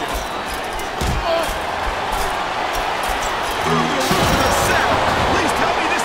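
Capacity wrestling arena crowd in WWE SmackDown vs Raw 2007 during an Undertaker versus Randy Orton match, a dense steady roar of cheering that swells slightly toward the end under commentary talk.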